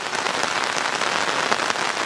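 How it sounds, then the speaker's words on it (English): Steady rain pours down on a surface with no wind or thunder, a dense, even, close hiss of countless drops holding at one level throughout. "We've got the most beautiful rain going on right now. It's just coming down nicely."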